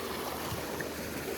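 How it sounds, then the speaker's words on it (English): Lake waves slap against a fishing boat on Bartlett Lake in a steady, loud wash of choppy water, with no pauses and no voices. "Waves are hitting like crazy."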